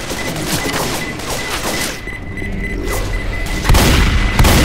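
A grenade goes off in Left 4 Dead amid gunfire, with loud crackling shots leading into a heavy, booming blast near the end, close and dominant over the game mix.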